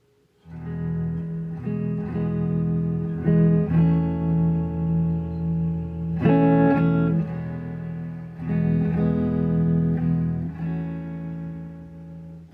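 Electric guitar with a tremolo effect plays sustained chords and notes, strummed every couple of seconds, with wavering, shimmering sustain ringing out clearly with no talking.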